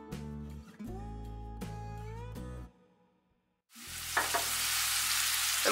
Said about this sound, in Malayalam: ഇതിലേക്ക് പ്രോൺസ് ഇട്ട് നമുക്ക് ഫ്രൈ ചെയ്തെടുക്കാം.